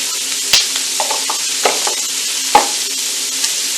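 Celery, carrots and onions fry in a hot pan for braised short ribs, a steady sizzle broken by several sharp scrapes and clacks of stirring, close and fairly loud with no talking.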